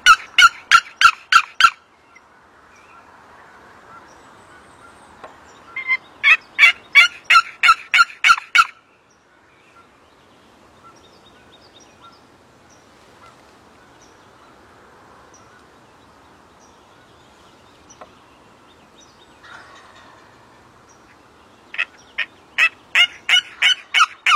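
A wild turkey gobbles in loud rapid bursts in reply to a call, three separate bouts spaced apart, with a quiet outdoor hush in between.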